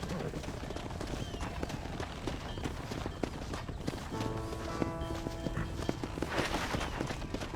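Horse hooves clip-clop steadily in the Western game Red Dead Redemption, a brisk rhythmic trot close by, mixed with ambient game sounds and faint background voices.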